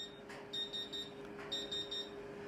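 An electronic device beeps in short bursts, two clusters of three or four high, sharp, evenly spaced tones with a brief pause between them, close and fairly clear against a quiet background hum.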